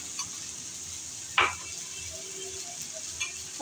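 Fish cooking with poppy seed paste in a pan over a low flame, a soft steady sizzle with one clear utensil clack against the pan and a few faint taps.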